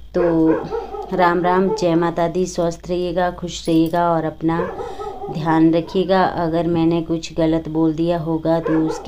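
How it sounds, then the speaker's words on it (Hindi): A pet dog barks outside during rainy-season building work, faint and intermittent beneath someone speaking steadily close to the microphone. "डॉगी, देखिए अभी बाहर भौंक रहा है"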